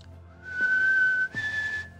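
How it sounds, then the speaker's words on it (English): Two short whistled notes from a person playing the game One Hand Clapping, each a clear steady pitch, the second slightly higher, with a brief gap between them and no talking. "my whistling is not detected very well"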